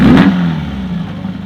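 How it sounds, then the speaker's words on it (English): A Volkswagen postal van with a 2-litre engine, dual carbs, an FK10 cam and an A1 exhaust revs briefly up close, a loud, low, rising engine note that then eases into a steady lower rumble. "You've got to rev it up a bit to sort of make it move."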